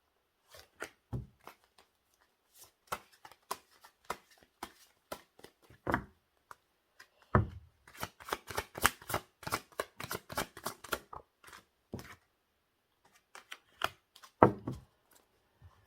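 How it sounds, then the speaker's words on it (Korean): Tarot cards are shuffled and drawn by hand on a table: sparse crisp flicks and taps, then a rapid riffling burst, then a few more slaps and placements, close and quiet with no voices. "현재 두 분의 관계 모습 카드 뽑았어요"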